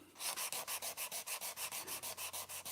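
Sandpaper of 120 grit scrubs old varnish off a wooden surface in quick, even back-and-forth strokes, close and steady, about five rasping passes per second with nothing else audible.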